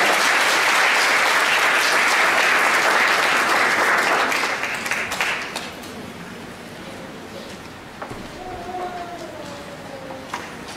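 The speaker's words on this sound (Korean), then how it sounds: "우리 하나님께 우리 영광의 박수를 올려드리면서 목사님을 맞이하겠습니다" A church congregation claps loudly and steadily to welcome a pastor, the applause tapering off after a few seconds as a voice begins speaking over the fading clapping.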